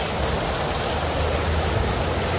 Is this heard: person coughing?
no